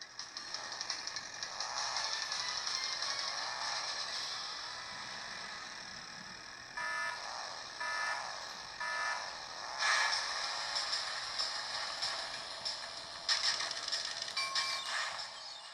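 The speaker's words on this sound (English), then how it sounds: "the last game demo on the Miyoo Mini Plus is Crash Team Racing on PlayStation 1" Crash Team Racing, the PlayStation 1 game, plays on a Miyoo Mini Plus handheld, giving a continuous bright stream of game audio with dings, clangs and whooshes. No one talks.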